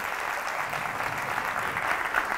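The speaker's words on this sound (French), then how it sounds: "Applaudissements comme ça, elle se chauffe." Steady applause from a comedy show audience, moderately distant and even in rhythm with no voices on top.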